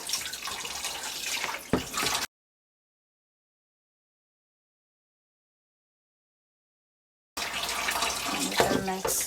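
Beef washed by hand under a running tap: close, splashy water in two bursts separated by a long stretch of silence.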